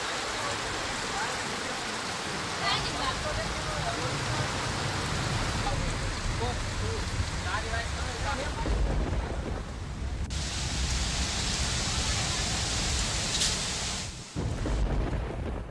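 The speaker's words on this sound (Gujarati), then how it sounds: "ભવનાથમાં જોરદાર અને ધમાકેદાર વરસાદ જોવા મળ્યો છે." Heavy monsoon rain pours steadily at Bhavnath near Girnar mountain in Junagadh, a dense continuous roar of downpour with low rumbling underneath and a brief dip near the end.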